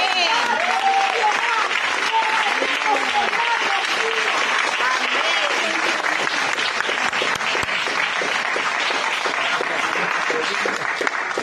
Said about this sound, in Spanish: Si el aplauso fue para los hermanos, estuvo bien, pero si es para el Señor